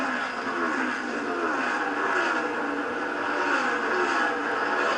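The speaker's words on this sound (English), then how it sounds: "They're just pushing their car so hard, and Kurt Busch is able to just keep his car steady and keep that lead" NASCAR stock cars roar around Dover International Speedway during the 2011 AAA 400, a dense continuous engine drone with shifting pitch as the field passes, loud and steady with no talk on top.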